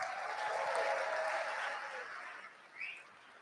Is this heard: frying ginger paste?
no